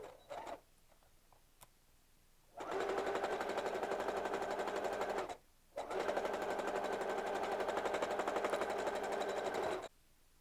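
A sewing machine stitches a fabric pocket in place, running in two long steady whirring bursts of rapid needle strokes separated by a brief pause, close and clear, with a few soft clicks before it starts.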